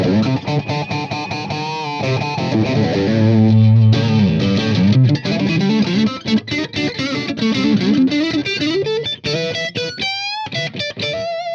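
Loud distorted electric guitar through a Morley 2020 Distortion Wah pedal, wah engaged and distortion at 11 o'clock, with a swept wah tone, playing chords and single-note runs that shift between thick and sharp, nasal sounds.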